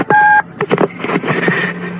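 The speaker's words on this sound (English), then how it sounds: "That's when the phone rings." A telephone rings in a house during a tense wait for news, a single electronic ring with steady tones, followed by fainter clattering and handling sounds as the receiver is picked up.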